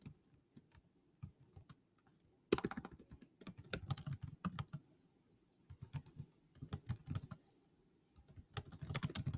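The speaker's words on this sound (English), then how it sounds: "what I'm going to do is type in the question" Someone types a quiz question on a computer keyboard in quiet bursts of rapid key clicks, with a short pause at the start and brief breaks between runs.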